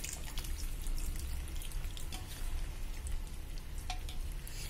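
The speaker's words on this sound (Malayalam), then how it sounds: "അപ്പൊ പുളി പിഴിഞ്ഞതും ഇതിലേക്ക് ഒഴിച്ചു" Squeezed tamarind extract pours into a hot pan of curry, giving a soft, continuous watery splash and low sizzle with faint drips, quiet and close, without speech.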